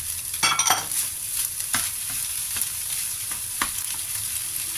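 Eel fried rice stir-fried in a pan gives a steady sizzle under a run of spatula scrapes and taps against the metal, close and moderately loud, with no voices.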